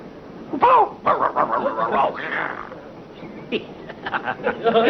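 A voice imitates a dog barking, loud and close, with a few sharp bark-like yelps and growls in quick succession in the middle of a French storytelling passage.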